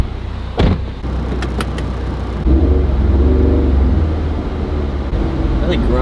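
Turbocharged FR-S engine droning steadily from inside the car while driving, a loud low rumble with a door-like thump early on and the engine note swelling midway as the car pulls.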